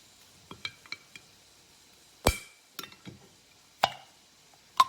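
A sharp crack as the seal on a container of stock breaks, followed by several light clicks and ticks, scattered and close, with a final bright pop near the end; no talking.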